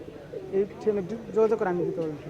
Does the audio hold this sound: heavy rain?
no